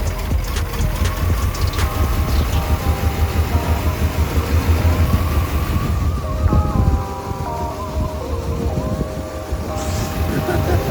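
Engine of a 33-year-old truck revving with broad low rumble and rising, falling pitch, loud and continuous throughout, near the microphone.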